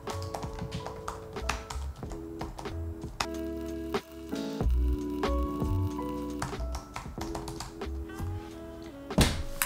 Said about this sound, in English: next up, let's do typing